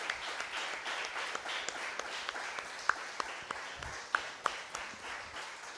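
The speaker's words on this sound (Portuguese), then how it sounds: "Você pode mais uma vez aplaudir ao nosso Senhor?" Church congregation applauding together, steady faint clapping with a few sharper individual claps standing out, no talking over it.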